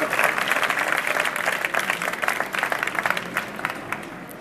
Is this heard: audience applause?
yes